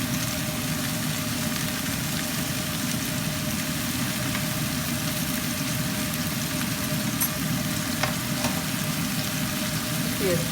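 Mushrooms and vegetables fry in a pan with a steady, dense sizzle that holds evenly throughout, broken only by a few faint clinks of stirring.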